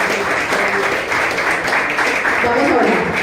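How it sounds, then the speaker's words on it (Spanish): A church congregation applauds together in a steady, dense wash of clapping that fills the room, with voices mixed into the noise. "Démosle un aplauso al Rey de Reyes y Señor de Señores."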